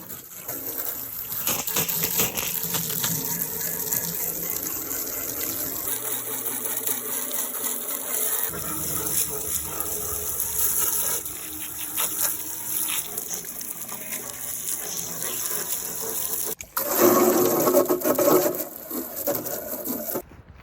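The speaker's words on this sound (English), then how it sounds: "Time for a quick rinse." Water rinses a vintage wooden chest, a close, continuous spray and splash with rubbing and scrubbing over the wood, growing louder near the end.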